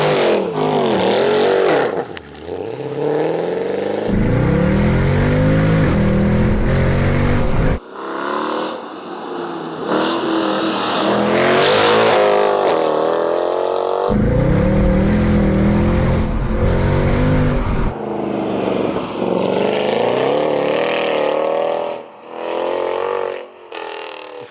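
A Mercedes C63 with primary and secondary decats revs hard several times, the loud raspy exhaust rising and falling between throttle blips, close by with no talking.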